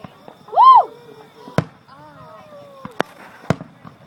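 Fireworks go off in the distance as three sharp, separate bangs spaced a second or so apart, with a brief whistling tone near the start and faint background voices.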